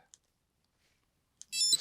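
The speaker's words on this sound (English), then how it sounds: "just starting my timer" A kitchen-style timer gives two short, high beeps a moment apart as it is started, then a brief rustle and handling noise close by.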